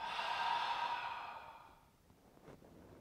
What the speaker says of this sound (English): Open the mouth. Breathe out.